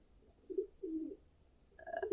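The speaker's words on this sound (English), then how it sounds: "pigeon's kind of doing unusual things" A pigeon coos softly nearby, giving two low, rounded coos followed by a brighter tonal call, with no talk over it.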